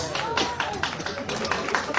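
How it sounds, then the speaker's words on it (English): Applause from a press-conference audience at a send-off event for a Miss World Philippines candidate, a steady broadband patter of many hands clapping close and fairly loud for the whole stretch, with faint voices underneath. "Let's give her a round of applause."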